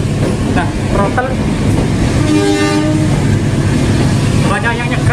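A vintage locomotive pulling the KA Logawa train rolls along with a steady rumble, and its horn sounds in a sustained tonal blast midway, with shorter horn tones near the end and a voice speaking.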